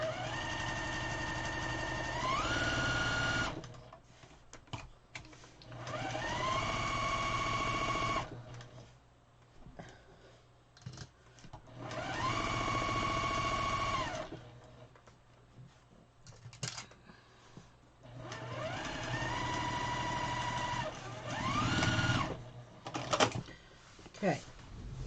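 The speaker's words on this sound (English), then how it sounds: "I'm going to sew as close as I can but not on the block" A sewing machine stitches a quilt block seam with a backstitch, running in several steady bursts of a few seconds each, separated by pauses with light handling noise and occasional talk.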